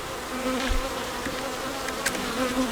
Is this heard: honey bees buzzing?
yes